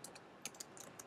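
Quick keystrokes tap out a web address on a computer keyboard in a short, uneven burst of light clicks, faint and near, with no voice heard.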